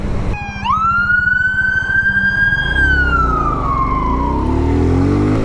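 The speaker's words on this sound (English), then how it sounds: "Uh-oh, ambulance." An ambulance siren starts up and wails loudly nearby, holding a long rising tone before gliding down, with motorcycle engine rumble underneath.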